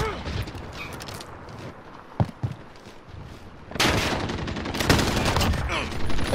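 Gunfire from a video game gunfight match: a sharp isolated shot, then dense overlapping bursts of rapid fire that grow loud and continuous in the second half.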